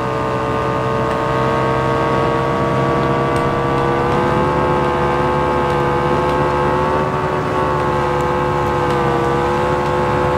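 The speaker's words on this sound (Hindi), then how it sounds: "बढ़िया चल रही है बाइक" Harley-Davidson and Royal Enfield Bullet motorcycles racing on a track: a loud, continuous engine drone with steady harmonic tones that rise and dip slightly as the bikes hold speed, with no voices heard.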